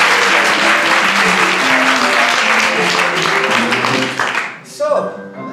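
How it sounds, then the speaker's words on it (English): Audience applause at a Christmas variety show, a dense wash of clapping that fills the room for several seconds before thinning out near the end, where a voice begins to come through. "A round of applause, please."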